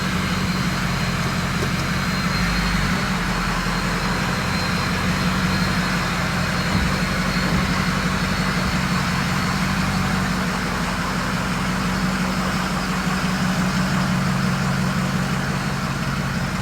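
A truck's 6.0 engine idles steadily in a shop, a close, continuous low rumble with a constant hum and no pauses or voices throughout.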